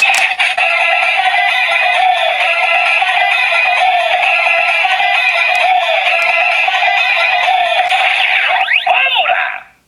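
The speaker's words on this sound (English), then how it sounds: "And pump slider for the finisher attack." A long, loud finisher-attack sound effect from a King Gaburicalibur toy sword, harsh and buzzing with shrill wavering tones, ending in a swooping flourish and a quick fade.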